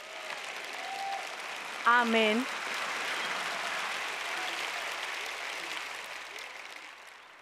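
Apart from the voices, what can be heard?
audience applause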